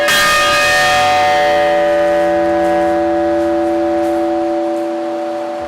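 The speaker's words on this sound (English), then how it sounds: "This bell was very famous and can make a lot of noise." The old Valdosta Institute school bell, dating from 1885, rings out with one loud, resonant strike. Its metallic tone hums on and slowly decays over several seconds, with no voices.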